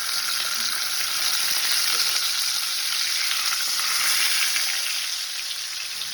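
Beef tenderloin searing in a hot pan gives a loud, steady, hissing sizzle, close and continuous, easing slightly toward the end.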